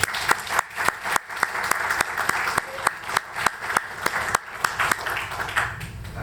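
An audience claps after an astronomy talk on exoplanets at a club meeting, with sharp distinct hand claps standing out over a steady bed of applause that fades toward the end.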